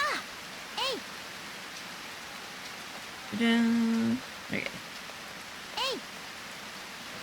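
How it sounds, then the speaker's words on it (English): Steady rain hisses in the farming game Harvest Moon: Grand Bazaar, with a few chirping melodic sound effects and a short buzzing tone layered over it, and a voice says a single word. "It's a rainy day, so I don't have to water."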